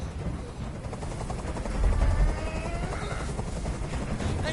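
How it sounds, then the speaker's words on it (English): Helicopter rotor noise from the video game Detroit: Become Human, a steady low whirring drone with a louder swell in the middle, heard alone without talk. "Tell that helicopter to get out of here."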